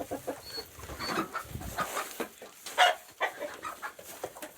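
Roosters on a backyard porch, with bursts of clucking and crowing-like calls scattered through the clip, one louder call near the middle, over faint outdoor background.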